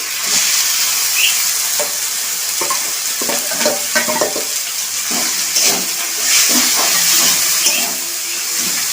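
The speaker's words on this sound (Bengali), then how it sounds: "এবার আমি এই ডিমের খোসা বাটাটা এর মধ্যে দিয়ে দিচ্ছি।" Bengali ridge gourd peel paste frying in a pan: a loud, constant sizzle close by, with scattered clicks and scrapes of stirring throughout.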